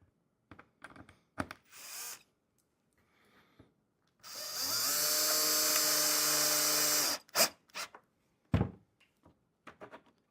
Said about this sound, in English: So we're going to drill each latch in.